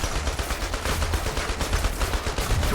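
Continuous heavy gunfire from a vehicle in the game Hatred, a dense, unbroken rattle of automatic shots with no pauses.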